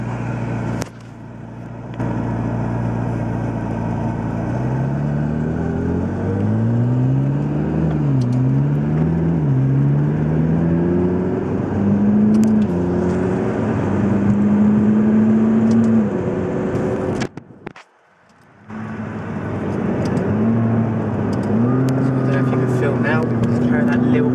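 A McLaren MP4-12C on a racing circuit, an engine note rising and falling through gear changes and accelerations, loud and sustained, with a brief dropout near the end before the drone resumes under occasional talk.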